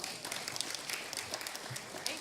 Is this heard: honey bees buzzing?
no